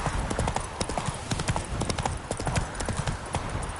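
Horse hooves trotting in The Witcher 3, a steady rapid clip-clop with rattling tack, close and loud, continuing alone for the whole stretch.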